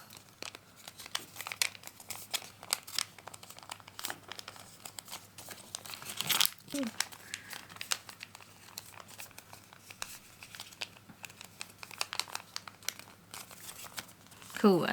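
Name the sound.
folding layered paper of a sushi origami kit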